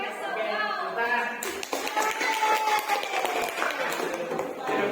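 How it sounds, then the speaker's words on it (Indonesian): A classroom group bursts into applause after a student project presentation, a dense wash of clapping under a voice and some background chatter. "Oke, tepuk tangan."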